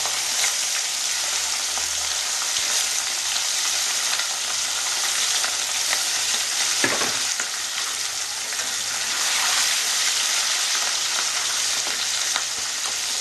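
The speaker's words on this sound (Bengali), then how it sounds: "কড়াই তেল দিয়ে মাছগুলো ভেজে নেব তেলটা আমার গরম হয়ে গেছে মাছটা আমি ভেজে নেব" Rohu fish pieces fry in hot oil in a wok for a Bengali-style kalia, giving a loud, steady, close sizzle and crackle that continues throughout with no voices.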